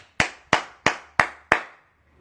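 Five sharp hand claps come in a slow, even rhythm, each crisp and close with a short fading tail, applauding someone. They stand alone with no voices.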